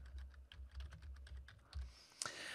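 Rapid, uneven clatter of keystrokes on a computer keyboard, close and fairly quiet, with a slightly louder key press near the end and no voices.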